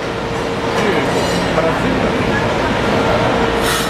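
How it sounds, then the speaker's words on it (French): A São Paulo metro train runs with a steady rolling rumble and rattle inside the car, faint squeals now and then, and a voice speaking over the noise. "on est toujours dans le métro"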